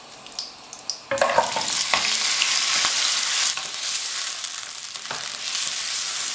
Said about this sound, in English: After a minute or so, I am just adding the lamb to it.